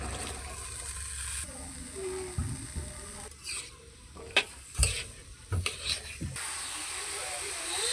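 Long beans and potatoes tipped into a hot pan of fried onion and chili, bursts of sizzling and stirring scrapes over a steady frying hiss, close and intermittent.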